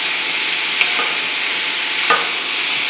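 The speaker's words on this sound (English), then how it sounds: "I'm going to put the vegetables in here. And let it stir fry with the pork." Vegetables and pork stir-fry in a wok for fried rice, a loud, steady, close sizzle with a couple of light scrapes of stirring and no voices.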